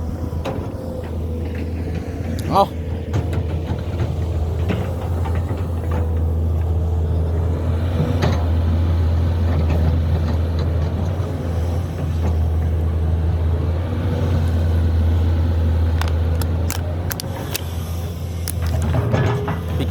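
Two excavators, a Doosan DX200A and a Sany SY215C, both fitted with winged buckets, dig raised-bed channels across a 30-rai plot. A loud, steady low engine drone continues throughout, with scattered clanks and knocks.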